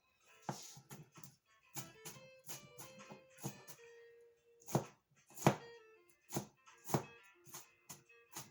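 A knife chops red onion on a cutting board in a home kitchen, with a steady series of close, crisp thuds and clicks, some quick and some spaced apart.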